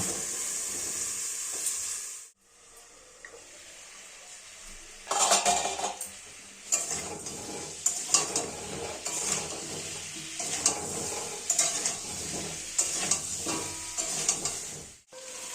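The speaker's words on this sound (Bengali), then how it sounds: "ভালোভাবে নাড়াচাড়া করে আলুটা এবার আমরা ঢাকা দিয়ে দেব" Potatoes frying in a covered kadai for a pea and potato curry, a steady sizzle broken by a brief pause, then repeated metal scraping and clinks of a spatula stirring, close and clear.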